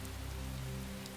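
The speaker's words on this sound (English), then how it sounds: "You exit the common as the rain falls in sheets," Heavy rain pours down in sheets on a night street, a dense, steady hiss of drops drumming on the ground with no break and no voices.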